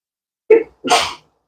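A woman sneezes twice in quick succession in a quiet indoor plant room, a sharp short burst followed by a louder, breathier second sneeze, close and clear with no other sound.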